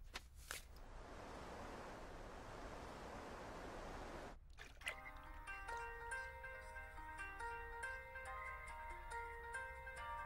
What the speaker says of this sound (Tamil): ரொம்ப நேரம் ஃபோன் ரிங் ஆயிட்டு இருக்கு.